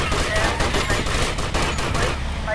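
Gunfire in the video game GTA Vice City, a loud dense fusillade of rapid shots that continues throughout.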